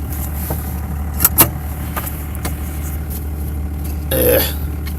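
A 1993 Dodge Power Ram truck with a Cummins diesel engine drones in a steady low hum from inside the cab. A few short clicks and a brief louder whoosh sit on top of the engine sound.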